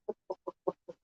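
A rooster clucks five times in an even, quick rhythm, short distinct calls close by against an otherwise quiet background.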